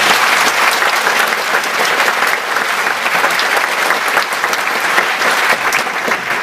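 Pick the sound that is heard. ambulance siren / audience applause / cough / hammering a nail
audience applause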